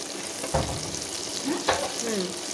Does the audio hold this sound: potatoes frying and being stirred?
yes